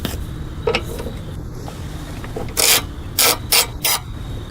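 A gearless ratchet wrench turns bolts on a lawn mower bracket. It gives several loud, close bursts of rapid clicking ratchet strokes separated by brief pauses, over a low background hum.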